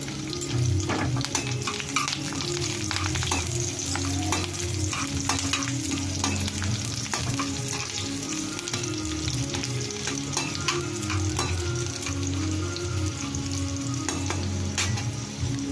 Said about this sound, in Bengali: রসুন কুচি করা ছিল ওটা আমি দিয়ে দেবো।